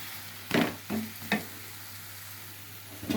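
Chicken and potato pieces stirred in a frying pan, with three short scraping stirs in quick succession over a steady low sizzle, then a fourth stir at the end.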